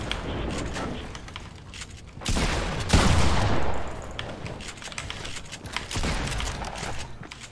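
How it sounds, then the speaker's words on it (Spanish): Fortnite gunfire with bursts of rapid shots and scattered single cracks, some close and loud, others thinner and farther off, coming in uneven clusters with no talk. "Y tengo otro tipo disparándome lejos"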